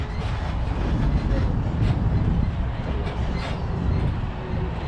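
A Disneyland Resort tram rolls along with a steady, moderately loud rumble and faint rattle, carrying on without pause.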